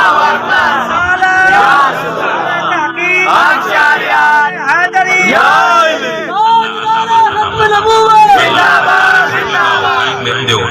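A large crowd shouts and chants slogans together in loud repeated waves of voices, with yells and whoops rising over a dense roar of massed voices.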